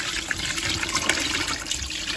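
Citrus brine poured over a turkey, a steady splashing and trickling of liquid that runs on evenly without pause, fairly close.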